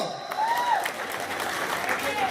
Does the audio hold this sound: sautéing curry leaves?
no